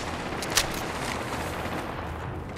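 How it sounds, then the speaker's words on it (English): Video game gunfire, a dense continuous crackle of shots with one sharper report near the start, loud and close throughout with no talking. "Opening fire."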